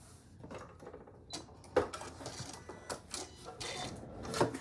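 A sewing machine stitching back and forth on a zipper pouch, a quiet, close series of rapid mechanical clicking bursts and whirs with brief pauses; no talking.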